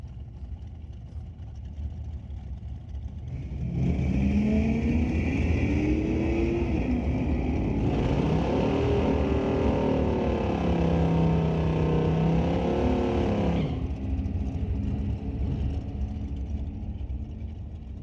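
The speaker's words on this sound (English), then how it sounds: "a 94 Mustang convertible in the tower lane, up against Jessica Armstrong and her 75 Dart, powered by a 318" Drag race at Mission Raceway Park between a 1994 Mustang convertible and a 1975 Dodge Dart with a 318 engine, engines droning and rising in pitch as the cars accelerate, heard from a distance for several seconds before fading.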